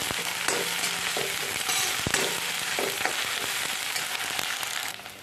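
Coconut, onion, garlic and cumin paste fries in oil for a spicy misal, a dense, continuous sizzle with occasional stirring clicks that fades slightly at the end.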